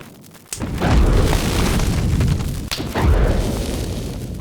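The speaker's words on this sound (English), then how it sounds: "Then the thump, we got all the sort of crashing sounds as the spell collides." Magic spell collision from the video game Hogwarts Legacy: a heavy thump followed by a loud crashing burst, then a second impact and a rumbling tail, with no voices.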